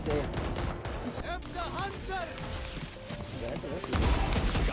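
Bursts of gunfire in a tactical shooter video game, rapid shots and impacts crackling through the match sounds, with a player talking excitedly over the action.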